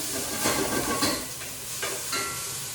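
Bacon rendering its fat in a pan for oyster chowder, a soft continuous sizzle with a few scraping stirs of a utensil passing through, fairly quiet and close, no talk.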